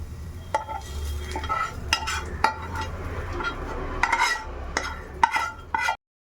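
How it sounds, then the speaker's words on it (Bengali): Sliced onions frying lightly in oil in a pan, a close steady sizzle broken by sharp clinks and scrapes of a spatula against the metal, ending abruptly. "তো পেঁয়াজটাও ভাজা হয়ে গেছে, আর খুব বেশি লাল করব না, তো এইভাবেই একটু ভেজে নিয়েছি।"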